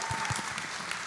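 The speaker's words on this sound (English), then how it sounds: "Can we give a round of applause to their parents, by the way?" Brief, fairly faint clapping from an audience at a youth panel event, a short burst of scattered hand claps.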